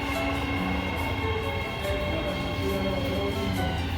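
Driverless underground metro train arriving at a station, a loud steady rumble with humming tonal whine from the motors, continuous and close throughout.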